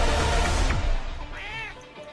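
A pet cat named Michi meows once, a short rising-falling call heard close up over a steady background hum.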